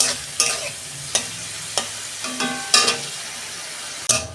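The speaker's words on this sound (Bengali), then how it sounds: "2 মিনিট আমি চিংড়ি মাছটা ভেজে নেব।" Peeled shrimp sizzle in a hot pan, with sharp clinks and scrapes of a spatula turning them at irregular intervals over a steady frying hiss, close and fairly loud.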